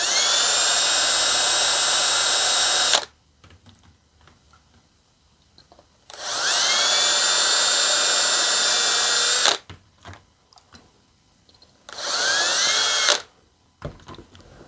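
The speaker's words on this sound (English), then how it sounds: "we've got all of our holes drilled" A drill with a diamond bit bores holes in fused stained glass, three loud, steady high-pitched whining bursts of several seconds each, separated by quiet pauses with faint clicks.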